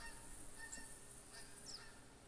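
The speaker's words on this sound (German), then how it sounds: "Schnattern wird auch immer wieder leiser." Geese honking and cackling in the hunting game theHunter, a few faint distant calls over a quiet outdoor ambience, no voices.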